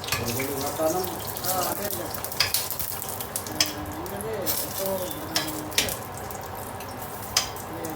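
Onions sizzle and fry in a pan while a utensil stirs, with occasional scrapes and clinks and faint talk in the background.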